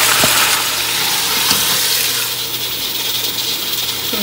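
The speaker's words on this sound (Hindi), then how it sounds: "अब इसके अंदर हम चिकन ऐड कर देंगे, और चिकन ऐड करने के बाद तकरीबन 5 to 7 minutes हम इसको फ्राई करेंगे" Chicken fries in a pan for Lahori murgh channa with a loud, continuous, close sizzle that holds steady throughout, easing slightly toward the end. No one speaks.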